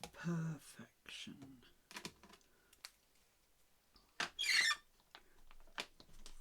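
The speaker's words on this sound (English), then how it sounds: "my ink pads are squeaky today" Ink pads squeak against paper while stamping in black during notebook crafting; a short, high-pitched squeal rises near the end among soft taps and handling noises.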